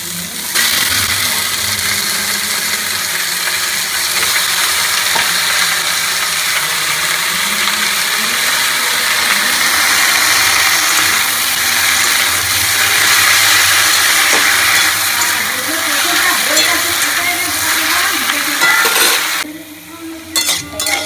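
Okra fries in a hot pan while being stirred, a loud, dense sizzle and hiss running steadily for about twenty seconds before briefly dropping away near the end.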